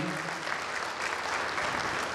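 Loud, continuous crowd applause at a public event in Balaghat honoring a young woman, a thick even wash of many hands clapping throughout with no pauses.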